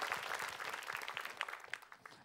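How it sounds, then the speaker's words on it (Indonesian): A studio audience applauds at a televised Islamic talk show, with dense, continuous clapping from many hands throughout. "Langsung aja kita kasih tepuk tangan dulu ya Bu, buat kisah inspiratifnya Ustadz Syam."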